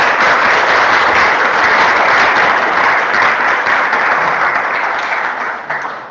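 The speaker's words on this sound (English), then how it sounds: "you can clap" Sustained audience applause at the close of a conference talk on composable caching in Swift, a dense steady wash of many hands clapping that thins slightly toward the end.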